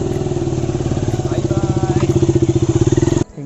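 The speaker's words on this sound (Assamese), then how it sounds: "বাইক উলিয়াই ল'লোঁ।" Close, loud motorcycle engine running with a strong rhythmic low thump that quickens slightly, then cuts off abruptly near the end.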